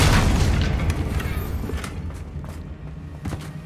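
A Confringo blasting spell in Hogwarts Legacy on PS5 sets off a heavy booming explosion that fades into a rumbling tail, followed by a few smaller thuds and pops.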